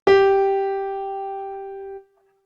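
A single clear pitched tone, a whole note held for four beats, struck once and held steadily for about two seconds, slowly fading before cutting off cleanly.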